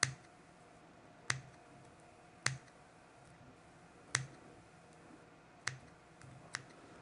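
Scissors snip excess material from a camo bomber fly during tying: six crisp, isolated clicks spaced about a second apart, close and quiet against a near-silent background.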